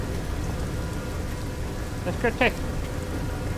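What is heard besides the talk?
rain falling in the video game No Man's Sky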